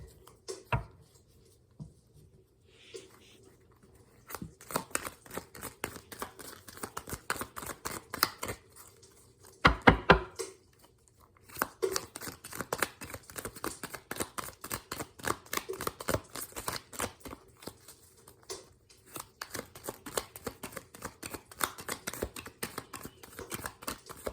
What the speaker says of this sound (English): now let's get a few tarot cards